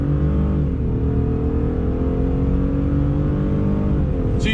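A Ford F-150 PowerBoost King Ranch hybrid truck with EcoBoost engine and electric motor accelerating on throttle, a loud sustained engine drone that climbs steadily in pitch, heard from inside the cabin with no talking.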